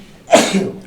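A single sharp sneeze bursts out in a lecture hall, loud and close, with a brief breathy tail and no talk during it.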